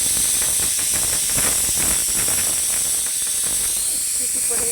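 Steam hisses steadily from a pressure cooker whistle on a home stove, a continuous loud, close rush of vapour with faint mechanical rattling and no clear pauses.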